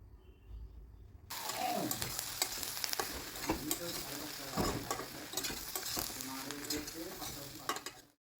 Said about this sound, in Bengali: এখন সমস্ত কিছু খুব ভালো করে মিশিয়ে নেব